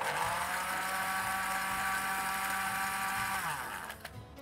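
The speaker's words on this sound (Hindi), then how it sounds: "This is one of the blender जिसमें आइस पूरी कम्प्लीटली तरीके से क्रश हो जाती है।" A blender crushes ice and watermelon with a loud, steady whirring grind that holds for several seconds before winding down and stopping.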